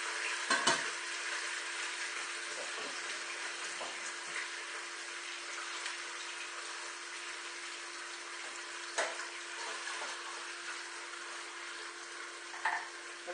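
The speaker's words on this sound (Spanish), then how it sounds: "lo que vamos a hacer es marcar el conejo" Pieces of rabbit meat searing in a hot pan for an almond-sauce dish, a steady, moderately loud broadband sizzle throughout with a few sharp crackles and clatters near the start and later on, no talking.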